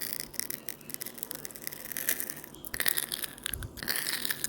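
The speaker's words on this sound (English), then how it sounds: "Moving on to the next one is a Skittles. Skittles. Those candies," Skittles candies crunch and crackle between teeth in close, irregular bursts, with faint rattling now and then.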